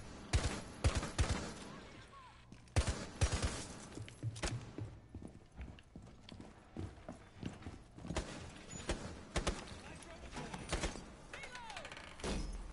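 Gunfire in Rainbow Six Siege comes as sharp, irregular bursts and single shots, some close and loud and others fainter, mixed with clattering movement and faint voices.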